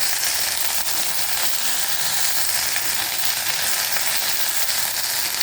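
Okra frying with potato, panch phoron and chilli in hot oil, giving a dense, steady, loud sizzle that continues unbroken throughout with no speech.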